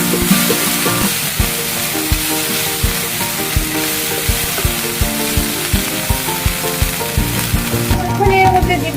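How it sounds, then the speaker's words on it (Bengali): Garlic, ginger and cumin paste sizzling in a hot pan, making a loud, constant frying crackle broken by regular rhythmic spatula strokes against the pan, with a musical backing running underneath. "এখন ভালোভাবে মশলাগুলো ভুনে নেব।"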